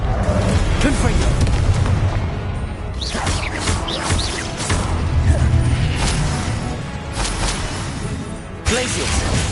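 Confringo fire blasts go off in Hogwarts Legacy amid constant loud, dense game combat, a booming rumbling mix with crackles and whooshes, while a voice shouts spell names over it.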